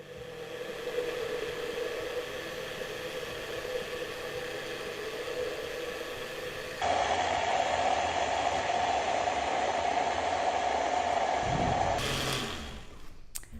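Kitchen blender whirring as it mixes carrot cake batter while sugar is added gradually by spoon; a loud, steady motor drone that shifts pitch midway as the load changes, then cuts off near the end.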